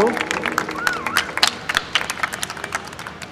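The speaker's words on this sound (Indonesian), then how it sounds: "Boleh sekali lagi kita berikan tepuk tangan yang meriah untuk kedua dalang cilik kita malam hari ini" Clapping from an audience for two child shadow-puppet performers at a university anniversary event, with individual sharp claps standing out, tapering off, while voices talk over it.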